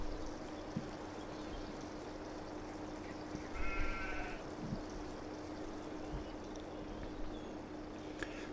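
A flock of about sixty sheep in Farming Simulator 22 gives a single short bleat midway, faint against a steady background of flowing water and ambient game noise.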